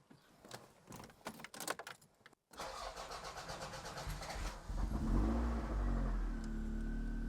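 A Toyota Celica in a garage cranks with a rapid clatter of the starter, falls briefly silent, then catches and settles into a loud, steady running engine.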